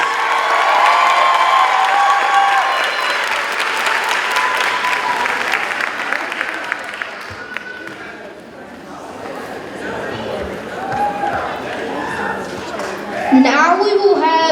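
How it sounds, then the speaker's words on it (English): An audience at a fifth-grade moving-on ceremony in River Rouge applauds and cheers loudly for a school band, with shouts and whoops over steady clapping. The applause fades midway and gives way to murmuring crowd voices, then a brief burst of sound near the end. "Let's give them another round of applause."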